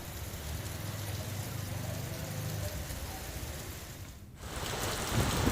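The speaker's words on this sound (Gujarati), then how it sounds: "મુન્દ્રામાં પણ વરસાદ છે" Steady monsoon rain falls in Mundra, Kutch, with a soft continuous hiss on a surface, moderately loud, briefly dipping near the end before resuming.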